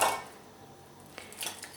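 A metal sauce pan clanks and scrapes briefly, with a couple of light clinks of utensils close by in a quiet kitchen.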